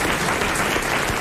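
A studio audience claps for a game show winner of 1000 francs on Les Grosses Têtes, a dense, loud burst of applause filling the whole moment.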